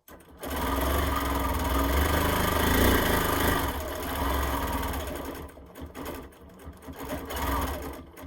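A sewing machine runs close and loud while quilting a zigzag stitch, humming steadily for several seconds and then slowing into shorter, uneven bursts toward the end.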